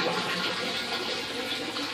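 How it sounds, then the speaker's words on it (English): Used oil that has been heated, settled and centrifuged is poured through a filter bag, giving a steady rushing, splashing liquid flow, close and continuous without talk. "Actually, I'll just pour it out."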